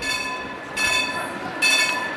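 A tram runs along Croydon High Street, a steady metallic rolling hum with high-pitched wheel squeal rising in two bursts as it passes close by, with no voices.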